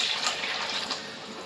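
Tamarind water is poured into a simmering Tamil fish curry, meen kolambu, a brief soft gush and splash of liquid, fairly quiet, with no talking.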